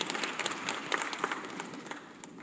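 A live audience claps through a formal public speech in a hall, a dense steady patter of many hands at moderate level with no voices over it.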